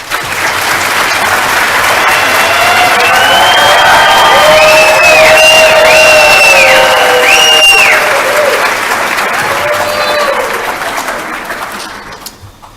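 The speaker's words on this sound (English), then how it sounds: "Let's give these newly pinned future nurses another round of applause." Audience applause and cheering for newly pinned nursing students at a BSN lamp of learning ceremony, a sustained loud wash of clapping with whoops and tonal whistles on top, fading away near the end.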